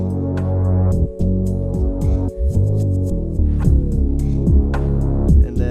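A trapsoul R&B beat drum loop, low-pass filtered with EQ so the highs are gradually let back in, loud and continuous with a throbbing low end and rhythmic hits.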